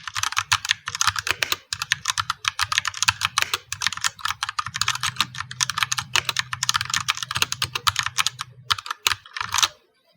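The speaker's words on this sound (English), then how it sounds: "here is the sound of my RK61 with brown switches" Steady fast typing on an RK61 mechanical keyboard with brown switches, a dense run of crisp close clicks and clacks, with a brief pause near the start and a few final keystrokes before it stops.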